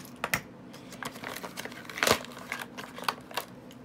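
Packaging being torn open by hand to free a newly unboxed item: a run of sharp crinkling rips and plastic-like crackles, close and moderately loud, strongest near the middle, with no talking.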